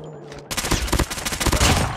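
Sustained automatic gunfire from a sentry gun in Call of Duty Mobile, a dense rapid burst of shots starting abruptly after a brief quiet lead-in and continuing loud and close to the end.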